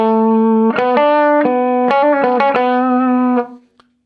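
Electric guitar runs through a boost pedal set for a straight level boost, a series of strummed and picked chords with a slightly driven, chorused edge, fairly loud and alone, ending in a quick decay.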